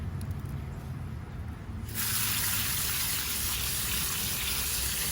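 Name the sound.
rinsing river rocks off with water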